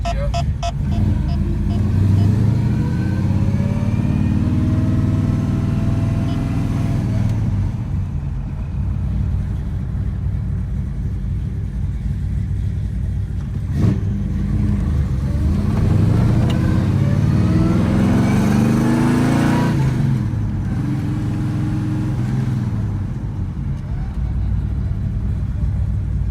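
A 1979 Chevrolet C-10 short-box pickup with a built 454 fuel-injected V8 and four-speed drives past and revs hard, deep rumbling engine climbing through several gear pulls, loud and close, then settling into a steady low drone.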